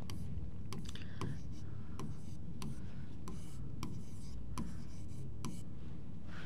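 Handwriting on paper with a pen, faint scratchy strokes and occasional taps recurring every half second or so beneath steady background noise.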